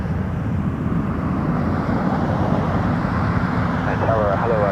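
Air Transat Airbus A330-200 taxiing at Toronto Pearson Airport, a steady, loud engine roar with broad rumble that holds evenly throughout and shows no break.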